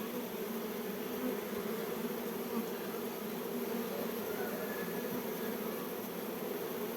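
A dense swarm of honeybees gives a steady, continuous buzzing drone, close and loud, with no pauses and no talking.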